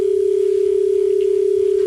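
Steady, loud dial tone on a phone line, held unbroken and alone during a radio phone-in show while waiting for a caller to connect.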